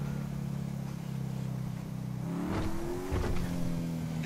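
A car engine in the GTA V role-play game idles, then revs up in a couple of rising bursts, fairly faint, with no talk.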